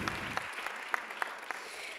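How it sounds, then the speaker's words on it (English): Audience at an art forum event applauds the founders of an arts network, a steady wash of clapping with a few sharper individual claps standing out, moderately loud and without speech. "You can clap for them because they are pretty wonderful"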